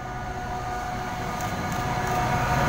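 A freight train hauled by MZ class locomotives rumbles past at a steady, sustained level, its low grinding roar and faint wheel squeals continuous throughout, with no voices.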